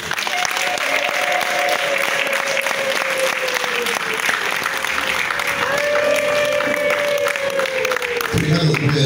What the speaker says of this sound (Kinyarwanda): amashyi menshi n'impundu